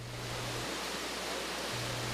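Diamond Falls in the narrows of Glen gorge, a steady broadband rushing roar of falling water, constant and enveloping throughout with no voices, accompanied by a low hum that drops out briefly midway.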